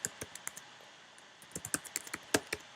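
Quiet, close keystrokes on a computer keyboard, typed in two short bursts separated by a pause, with crisp individual clicks and no talk.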